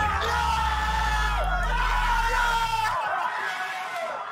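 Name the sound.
exaggerated cheering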